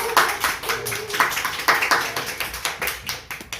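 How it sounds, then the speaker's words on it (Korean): A small church group at a monthly gathering claps in a loose, uneven burst of individual claps. The claps are close and distinct and taper off toward the end. "이제 박수 한번 해주세요."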